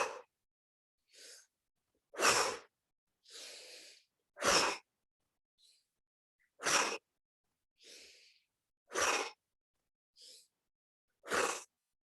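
Sharp forceful breaths during a guided relaxation exercise, each exhale a strong whoosh, alternating with softer inhales in a steady rhythm of about ten bursts, close and clear with no talking.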